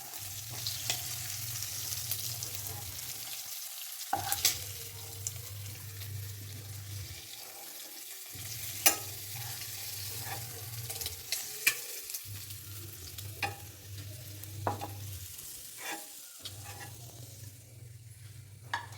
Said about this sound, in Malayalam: നമ്മുടെ നല്ല ചെമ്മീൻ ഇവിടുന്ന് പൊരിഞ്ഞെടുക്കുന്നുണ്ട്